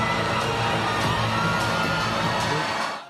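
A dense crowd of fans screams and cheers continuously for actor Timothée Chalamet at a packed multi-level promotional event for Dune: Part Two, the high-pitched shrieking fading out at the end.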